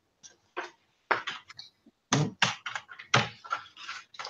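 A paper cutter slices through paper for a mini album, giving a run of sharp, close scraping strokes and clicks in uneven bursts, with short pauses between cuts and no voices.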